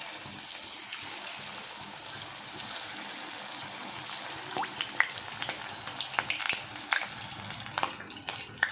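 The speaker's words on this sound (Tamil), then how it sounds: "சின்ன சின்ன பீஸாக வந்து நம்ம ஃப்ரை பண்ணி எடுத்துக்கலாம் போடும்போது" Small pieces of egg manchurian deep-frying in hot oil in a kadai, a steady soft hiss with scattered crackles and pops that grow busier toward the end.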